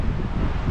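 A stormy wind blows hard over an outdoor spot, buffeting the microphone with a steady low rumbling roar and no voices.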